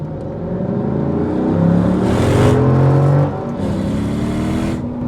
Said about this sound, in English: You can hear the induction noise